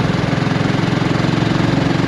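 BSA Rocket Goldstar 650 motorcycle engine pulling in top gear from a 40 zone into a national speed limit road, a loud, close, steady rhythmic throb with a fast pulsing beat.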